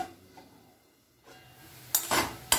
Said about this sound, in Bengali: এবার একটু ঢাকা দিয়ে দেবো দু মিনিট।